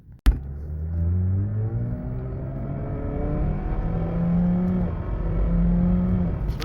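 Jeep Patriot in manual mode pulling away hard in first gear, its engine note rising steadily in a loud, continuous rev heard from inside the car with no talking.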